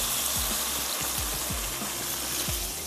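Water is poured into a hot pan of tandoori chicken gravy with potatoes, setting off a loud, steady hiss and sizzle that runs the whole time, with faint stirring and bubbling underneath.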